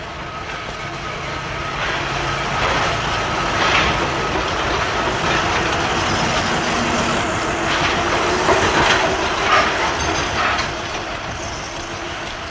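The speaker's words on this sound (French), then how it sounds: "Conducteurs et chefs de train en prennent possession et la conduisent en ligne." A 1950s rubber-tyred Paris metro train running along the line, a steady close rumble with rhythmic rolling and faint clatter that swells and eases throughout, with no one speaking.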